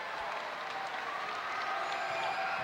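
Volleyball crowd on its feet cheering and applauding at game point, a steady dense wash of clapping and noise from a large audience with no pauses.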